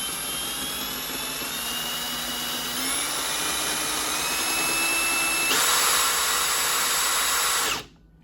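A Milwaukee Surge driver whines steadily on its variable speed trigger, stepping up in pitch twice as it ramps faster before cutting off abruptly near the end. The whine is fairly quiet and heard alone.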